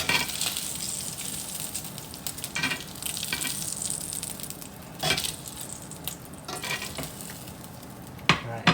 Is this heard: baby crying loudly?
no